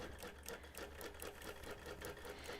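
A sewing machine stitches a quilt top in a fast, steady rhythmic whir of needle strokes, close and clear but low in level, with no talking.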